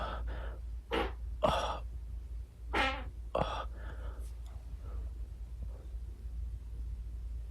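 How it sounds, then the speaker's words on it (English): Several short, breathy fart sounds come from a played-back video, quiet and scattered over steady low hum, with faint gasps and breaths in between. "he was struggling with that last fart"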